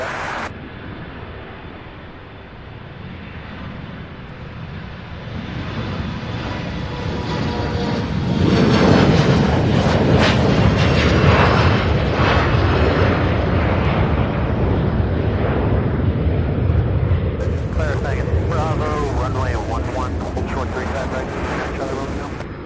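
A jet airliner roars at Louisville International Airport by the UPS Worldport, a broad rumbling engine noise that swells from a quieter start to a loud sustained blast, with wind buffeting.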